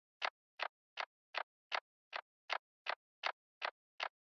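A wood percussion pattern in a lo-fi anime-style beat plays as eleven evenly spaced, dry, clicky hits with every other note pitched lower and nudged slightly off the grid, giving a light swung feel, clean and alone.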